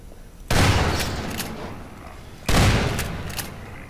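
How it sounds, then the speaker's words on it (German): Two loud explosions in Half-Life 2 Episode One, barrels blowing up nearby, each a sharp blast trailing off into a rumbling decay, about two seconds apart. "da ist gerade eben ein Fass neben dir explodiert."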